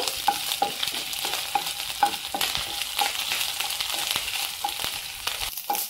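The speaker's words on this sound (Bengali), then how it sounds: "রসুন আর আদা একটু হালকা করে ভাজা ভাজা করে নেব।" Chopped garlic and ginger fry in a wok for a vegetable soup, giving a steady close sizzle broken by regular scraping stirs of the spatula, with no talking.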